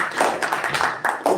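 Audience applause for a Toastmaster taking the stage at a Toastmasters club meeting, a steady run of hand claps from a room of people at close range, with no talking over it.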